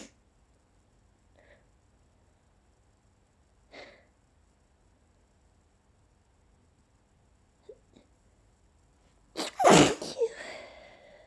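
A person with allergies lets out a few small, stifled sneezes and sniffs spread across quiet stretches, then one much louder, fuller sneeze near the end, all close and without talk.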